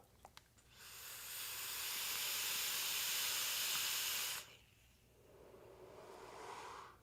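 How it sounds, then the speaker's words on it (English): A long, loud airy hiss of someone inhaling through a Hellvape Passage RDA with dual coils at 0.12 ohm and 75 watts, airflow wide open, holding steady for a few seconds, then stopping sharply, followed by a softer exhale. "Let me go ahead and vape it."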